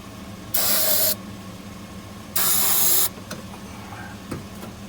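Two loud bursts of starting fluid sprayed into the engine of a 1966 Ford F100, each about half a second, separated by a pause, followed by faint clicks and a quiet mechanical ticking.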